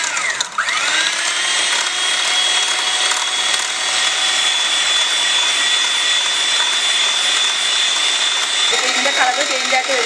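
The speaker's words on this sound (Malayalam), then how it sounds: "നമ്മൾ ഇതുപോലത്തെ ബീറ്റർ ഉപയോഗിച്ച് ചെയ്യുവാണെങ്കിൽ എളുപ്പമുണ്ട്" Electric hand beater whisking a batter at low speed, a steady close whirring hum with a high motor whine running throughout, briefly changing tone near the end.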